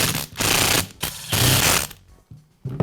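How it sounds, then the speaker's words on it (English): Screws driven in with a power driver to fasten the housing halves of a Porter Cable sander during a rubber cup repair: loud, close, ratcheting whirs in three bursts separated by brief pauses. "I'll reinstall the other half of the housing and secure it with the screws."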